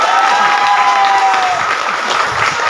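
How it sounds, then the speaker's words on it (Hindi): Loud, dense audience applause at a business motivational meeting in Bombay Market, Umarvada, a continuous even roar of many hands close by with no breaks. "और सबसे बड़ी ताली होना चाहिए"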